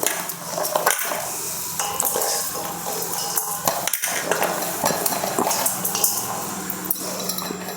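Cauliflower pakoda ingredients, with sliced onion and coriander leaves, are mixed together in a bowl, giving soft scattered clinks and rustles and a couple of dull knocks, close by with no talking.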